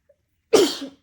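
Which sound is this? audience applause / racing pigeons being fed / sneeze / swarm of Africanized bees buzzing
sneeze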